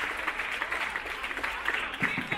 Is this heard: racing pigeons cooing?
no